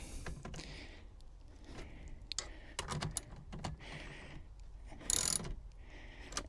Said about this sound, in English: you can use your socket set just to get it the rest of the way tight